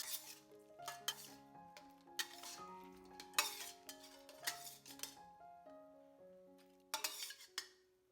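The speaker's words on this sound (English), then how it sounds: "drop in the cooked shrimp and mix them with the sauce" Cooked shrimp stirred into Marmite sauce in a pan with the flame off: repeated clinks and scrapes of a utensil against the pan in irregular bursts, close and fairly quiet, with a faint sizzle between strokes.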